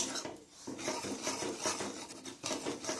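Dry semolina stirred in a pan while roasting on a low flame, giving a continuous gritty scraping and rasping in repeated strokes, close and fairly quiet.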